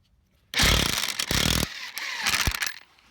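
A Mastercraft 7.5A electric impact wrench loosens a bolt, bursting in with loud, rapid hammering whirs in several close bursts before stopping.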